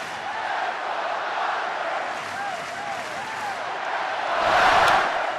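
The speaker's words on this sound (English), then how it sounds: "This is when the crowd really gets you going." A baseball stadium crowd at a Giants at Dodgers game roars in a steady wall of cheering and shouting that swells louder near the end, with distant whistles and chants rising out of the dense noise.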